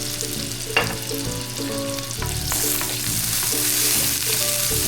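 Onions and lots of garlic frying in olive oil for a marinara sauce, a steady loud sizzle with occasional stirring clatter, no voices.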